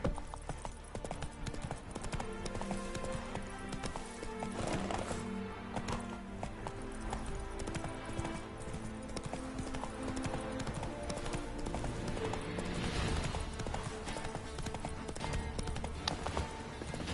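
Horse hooves clip-clop at a steady trotting rhythm in the video game Witcher 3: Blood and Wine, mixed with layered game music throughout.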